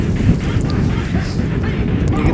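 Steady, loud winter wind buffeting the microphone with a constant low rumble while fishing outdoors, no clear speech, continuous throughout.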